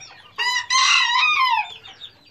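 A backyard rooster crows once, a loud close cock-a-doodle-doo lasting about a second and trailing off, over a quiet background with no talk.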